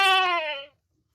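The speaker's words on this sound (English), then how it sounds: "G for goat" A single goat bleat, a short wavering nasal cry lasting under a second that ends abruptly, followed by silence.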